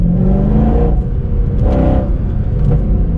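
A Mercedes C63 Black Series accelerates, its engine roaring loud and close in repeated rising surges with brief dips between pulls, heard from inside the car.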